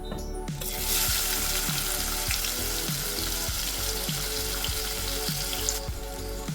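Onion frying in oil with cumin and asafoetida, a loud, dense, continuous sizzle close up, with a repeated soft scraping pulse of stirring underneath and no voices.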